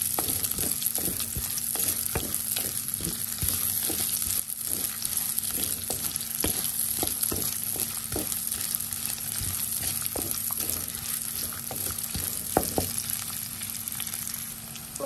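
Small onions (shallots) fry in a pan for a fish curry, a soft steady sizzle broken by regular scraping taps of a utensil stirring them, close and moderately quiet.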